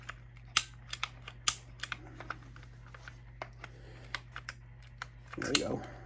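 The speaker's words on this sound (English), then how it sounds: "It seems like it's ratcheting." A ratcheting PVC pipe cutter works on a 3/4 inch PVC pipe, giving sharp, quiet clicks at an uneven pace over a low hum. A heavier crunching burst comes near the end.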